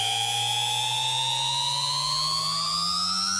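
A looped alarm-clock-like electronic tone with a pitch-rise riser applied, its steady harmonic bands gliding slowly upward over a few seconds, loud and continuous with no talk.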